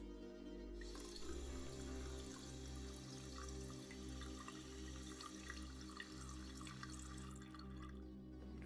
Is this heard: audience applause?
no